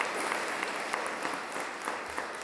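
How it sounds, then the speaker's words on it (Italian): An audience applauds at an Italian event for a University of the Third Age activist, a steady wash of many hands clapping at moderate level, with no talk over it. "Vi prego, sostenetela con un applauso."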